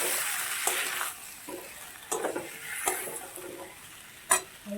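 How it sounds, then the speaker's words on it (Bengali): Potato and pointed gourd go into oily masala in a pan, producing a soft sizzle with scattered stirring scrapes and one sharp clink near the end. "এবার আমি আলুটা পটলটা দিয়ে দেবো"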